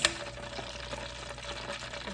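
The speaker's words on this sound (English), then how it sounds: "it's been frying for about 10 minutes" Plantain slices frying in a pan, a quiet, steady crackling sizzle with faint stirring, low and continuous throughout.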